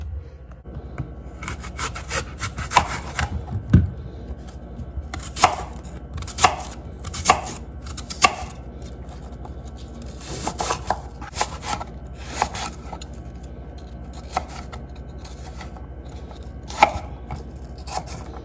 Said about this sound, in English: I'm going to chop up my apple